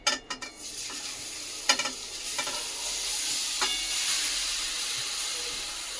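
Grated carrot sautéed in homemade ghee in a kadhai for gajar halwa, with a few sharp stirring clatters at the start, then a steady loud sizzle and hiss of frying throughout, no talk.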